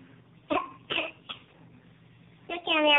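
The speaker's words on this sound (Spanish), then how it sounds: "Yo que a mí ya me dio tos." A child-like voice gives several short, sharp coughs in quick succession, then speaks briefly at the end.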